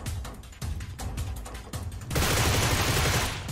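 Gunfire in the PUBG Mobile game, on the Ruins area, sounds as dense rapid bursts of shots. They grow into a loud, continuous fusillade over the last second and a half, with no talk.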